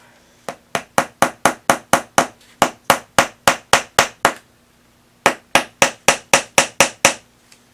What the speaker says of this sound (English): just hammer it in how you can.